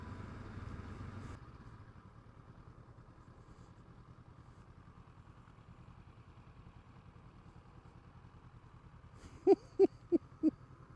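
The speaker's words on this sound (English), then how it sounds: "I just leave the bike in second gear and let the engine do all the way." A small motorcycle rolls along country roads near Hackness in second gear, its engine a faint, steady low drone with no braking, followed near the end by a few sharp clattering knocks.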